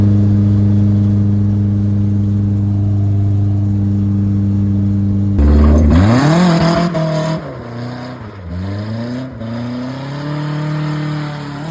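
An FE3 engine-swapped drift car on a test drive, holding a steady loud idle-like drone that suddenly jumps into hard revving with rising and falling pitch sweeps, then stays loud and rough as it drives off.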